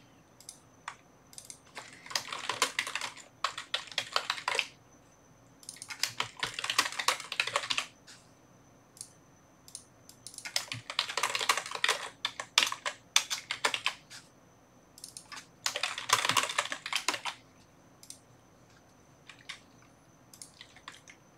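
Keyboard typing in four bursts of quick, dense keystrokes with short pauses between them, fairly close and clear over a quiet room hum, with no talking.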